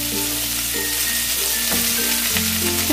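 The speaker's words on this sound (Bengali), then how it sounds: "এবারে আমি ডাঁটাগুলোকে দিয়ে দেবো" Vegetable stalks for shukto fry in hot oil, a steady close sizzle with a few soft stirring scrapes throughout.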